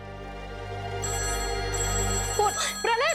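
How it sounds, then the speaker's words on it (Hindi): An old landline telephone rings at home in a 1990s setting, its steady electronic tone sounding continuously while a few brief voice-like sounds rise over it near the end. "फोन प्रणय, रुक जा मैं उठाती हूँ।"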